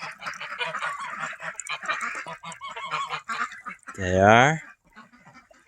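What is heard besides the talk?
ducks quacking at a winter duck pond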